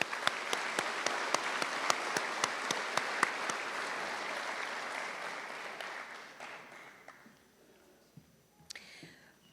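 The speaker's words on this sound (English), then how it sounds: "Let's give them all one more round of applause." Applause fills a room at an 8th grade promotion ceremony, with a few sharp individual claps standing out over the dense clapping. The crowd sound thins and dies away after about six seconds, leaving a few isolated claps.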